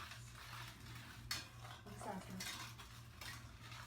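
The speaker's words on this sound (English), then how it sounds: "you want to stir it until you hear no more sugar grinds" A spoon scrapes steadily against a pan as sugar is stirred for pecan candy. The gritty stirring is close and continuous, with a low rhythmic hum underneath.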